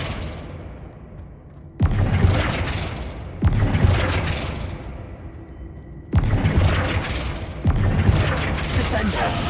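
Flipendo spell impacts in Hogwarts Legacy, four loud booming blasts at irregular intervals, each a sudden broadband hit that decays slowly.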